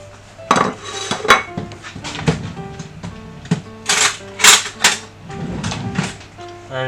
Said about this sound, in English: I'm getting my penguin plate.